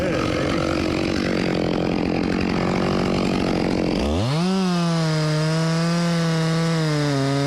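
Chainsaw cutting into a walnut tree: a dense, rough cutting roar for about four seconds, then the engine drops to a steady, loud idle with a clear wavering tone, close by with no talk.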